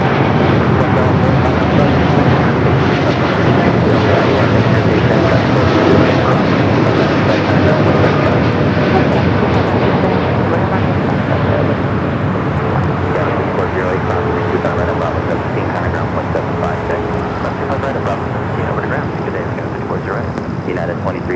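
Airliner on flight 197 from Seoul at LAX, its jet engine roar loud and steady throughout, broadband and continuous with a slow fade near the end; a voice talks faintly underneath.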